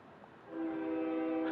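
Local freight train sounding its horn, a sustained multi-tone blast rising in after a quiet start and holding steady at moderate distance, with faint rumble underneath.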